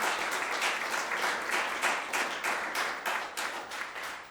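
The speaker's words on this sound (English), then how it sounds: "So I just want to give Chris a round of applause for even just doing the job that he does." An audience at a cannabis industry gathering in New York gives a round of applause, sustained clapping with a slightly pulsing rhythm that carries through the whole stretch and fades a little toward the end.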